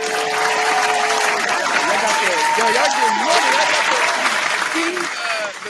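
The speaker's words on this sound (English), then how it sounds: "Let's give him a round of applause." Applause and whoops from a small group greeting a guest arriving on a podcast, loud and steady throughout, with people talking and cheering over it.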